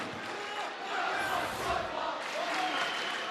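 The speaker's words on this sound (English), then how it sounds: "You hear the crowd right now?" Arena crowd cheering for Utah State at a college basketball game against San Diego State, a loud, sustained roar with shouts that swells slightly midway and holds steady throughout.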